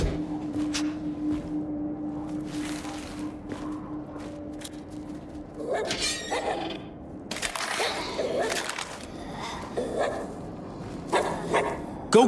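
Corgi companion barking in the VR game Arizona Sunshine 2, short repeated barks and yips scattered over a steady game background hum, with a voice talking at times.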